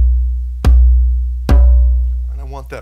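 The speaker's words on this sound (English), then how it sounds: "Is the first thing I do is I hit a bass tone right in the center." A djembe hand drum is struck twice at the center of its head with bass tones, each a loud, deep boom that decays slowly, followed by a brief voice near the end.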